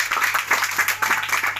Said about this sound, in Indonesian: Berikan tepuk tangan Bapak Ibu Saudara.